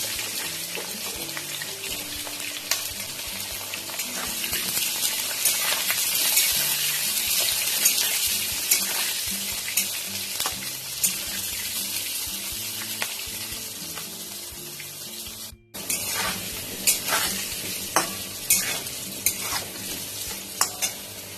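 Cut potatoes hiss and sizzle in hot oil with nigella seeds and slit green chilli, a steady, close frying sound broken by a brief pause and then resuming, with the scrape of stirring throughout and no voices.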